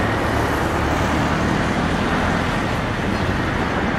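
Motorcycles and other traffic stream through a new road tunnel near Itaquera, a dense, continuous roar of passing engines without any talk.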